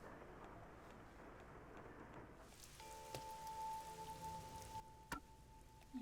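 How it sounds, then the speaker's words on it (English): Soft, steady video game rain patters on a surface, with a sustained tone and a few sharp taps joining partway through, in Master Detective Archives: Rain Code. "now it's raining again in game."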